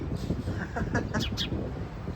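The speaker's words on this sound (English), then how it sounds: "Sometimes these lights actually have bird chirping sounds" A street pedestrian crossing signal playing electronic bird-chirp tones: a few quick, bright chirps over low traffic rumble and outdoor ambience, heard at moderate distance.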